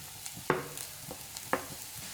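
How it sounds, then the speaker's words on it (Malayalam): Shredded chicken is stirred into masala in a pan. Two sharp spoon scrapes stand out over a soft, quiet sizzle, with no voices. "നമുക്കിനി ഇതിലേക്ക് നമ്മൾ നേരത്തെ ഷ്രെഡ് ചെയ്ത് വെച്ച ചിക്കനില്ലേ അത് ചേർത്ത് കൊടുക്കാം."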